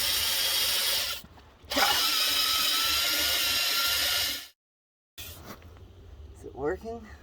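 A power drill grinds into a stripped lug bolt on a BMW wheel in loud, sustained bursts that break off and restart, with a brief silent gap and people talking over the later part.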